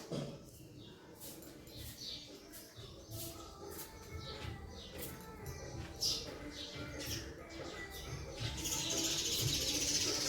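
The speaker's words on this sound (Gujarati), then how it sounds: "ચકલીઓનો અવાજ કેટલો સરસ મજાનો આવી રહ્યો છે બે ચકલીઓ ઝઘડવા માંડી છે" Sparrows in a household setting chirp and squabble in quick, bright bursts throughout, mid-distance and fairly faint over a low background hum, the chirping growing busier toward the end.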